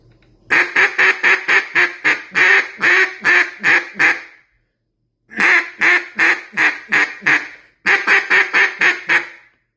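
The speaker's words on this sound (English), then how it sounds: "Or you could do it cut and then the greet" Cut down duck call blown loud and close: a fast run of sharp cutting quacks, a brief pause, then a descending greeting call of evenly spaced quacks, ending with a shorter series.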